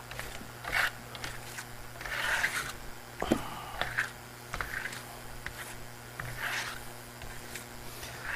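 A steel trowel spreads black wax across a porous Venetian plaster wall, giving repeated soft rasping scrapes in uneven strokes, close and moderately loud, with no talking.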